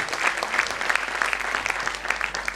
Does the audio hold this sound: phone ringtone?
no